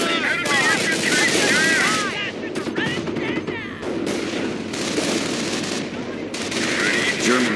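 Sustained machine gun fire and bursts of gunshots in the World War II strategy game Company of Heroes, loud and dense across the battle, with brief lulls and faint voices mixed in.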